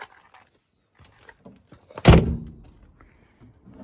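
A door on a 1964 Austin A60 with original paint shuts with one solid thunk after faint handling clicks, followed by a brief echoing decay and then quiet.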